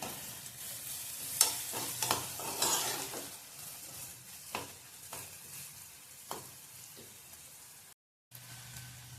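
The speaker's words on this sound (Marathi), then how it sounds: "मसाले चांगले तेलात भाजून घेऊया आधी आपण।" Egg masala and cumin-coriander powder roasting in oil for an egg bhurji curry, with a soft sizzle under repeated close scraping stir strokes and a brief silent gap near the end.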